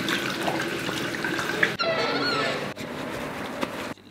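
Water runs from a sink tap in a Lahore restaurant as hands are washed, a close steady splashing stream broken by a few short gaps and shifts in flow.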